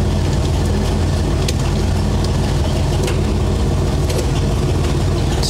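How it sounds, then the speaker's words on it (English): A 1964 Ford F100 pickup truck engine runs steadily in first gear with the clutch slipping and the wheels held still, giving a continuous, loud, low rumble with no talking. "First gear, slipping the clutch."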